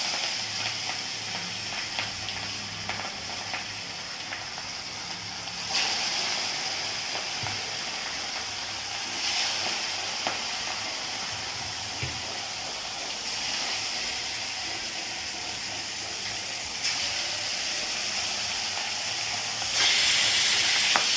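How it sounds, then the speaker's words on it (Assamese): Fish sizzling as it fries in hot oil in a home kitchen while an Assamese fish curry is cooked; a steady, close hiss of spitting oil runs throughout with small pops, swelling slightly louder in bursts. "এয়া মোৰ তেল গৰম হৈ গ'ল, ইয়াতে মই দি দিছোঁ মাছ।"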